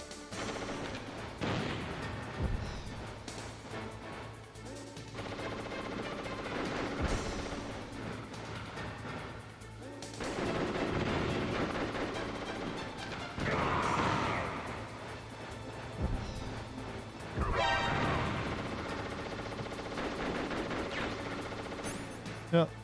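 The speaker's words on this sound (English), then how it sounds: "I will use a Nikita launcher." Metal Gear Solid game combat with a Nikita launcher: repeated loud blasts and booming explosions recur across the stretch, dense and noisy, with a steady low hum beneath and some voice-like sounds mixed in.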